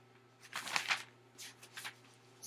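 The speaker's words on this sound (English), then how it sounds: "sorry about the page turning and the pauses here" Paper pages turn a few times during a pause in a Java programming walkthrough. Two soft rustling sweeps come up close, then a few fainter flicks follow over a steady low electrical hum.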